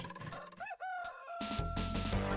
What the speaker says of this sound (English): There's a fucking rooster!